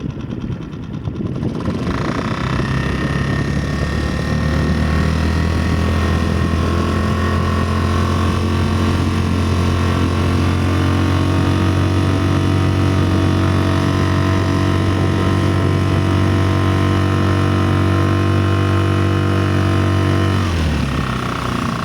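A Mercury 3.5 hp outboard motor running on a boat fitted with a hydrofoil, exhaust not venting properly, drones loud and steady with a strong hum before cutting off near the end.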